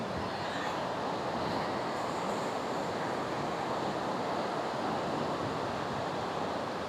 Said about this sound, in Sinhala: අද නම් සුපිරි වතුර පාරක් තියෙනවා.